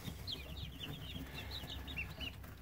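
Three-week-old ISA Brown and Barred Rock chicks give a quiet run of short, repeated peeps and clucks, close by but faint, with no talking.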